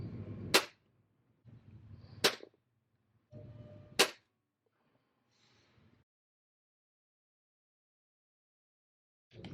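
A Browning Buck Mark air pistol firing Crosman Premier hollow-point pellets gives three sharp, close cracks at steady intervals, each with a short rumble around it. Quiet follows, then a fourth crack right at the end.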